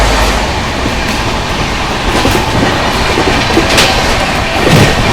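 A Banaras Superfast Express rolls past another train at speed with a loud, steady rumble of rail wagons and a rhythmic clickety-clack of wheels over track joints, close by throughout, with no talking.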